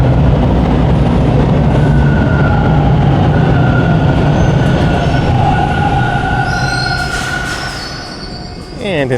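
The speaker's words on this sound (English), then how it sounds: "as a westbound Line 2 train rolls in." A westbound Toronto subway Line 2 train rolls into Victoria Park Station, a loud, close rumble of wheels with high squeals rising over it, easing off toward the end as the train slows.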